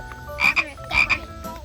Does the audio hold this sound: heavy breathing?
no